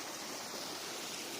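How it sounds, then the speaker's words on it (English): Steady rushing water of a stream flowing through a valley in West Yorkshire, a continuous broadband wash with no voices. "the waters of streams are still flowing"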